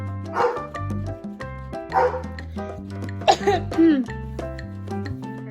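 A dog barks at balloons several times in short, loud bursts close by, over steady background music.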